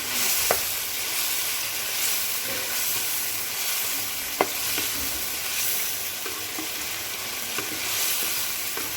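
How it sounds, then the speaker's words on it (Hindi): Coriander powder gets stirred into a chicken and pea curry in a pan, producing a steady close sizzle and hiss with occasional sharp spoon taps against the metal. "इसमें हम डालते हैं धनिया पाउडर और इसको कर लेते हैं मिक्स"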